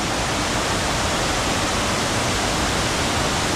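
Strong river current rushing at a deep river crossing on the Cabangan ridge loop in Zambales, a dense, steady broadband roar of churning water with no letup, close and loud throughout.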